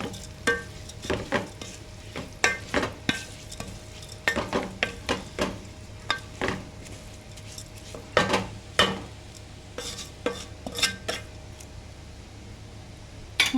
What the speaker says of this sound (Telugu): ఇప్పుడు దీన్ని కాస్త కలబెట్టేసి మూత అనేది పెట్టేద్దాం.